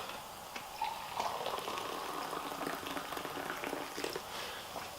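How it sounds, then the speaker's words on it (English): Warm water poured into a glass holding foamy shoe-cleaning solution to soak laces, giving a soft, continuous bubbling fizz at low volume with a sharp tap at the very end. "Then we'll get our warm water."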